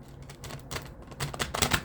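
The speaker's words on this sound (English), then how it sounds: "One more shuffle." Tarot cards being shuffled by hand, a quick run of crisp riffling flicks and soft slaps over about two seconds, close and moderately quiet, with no voice.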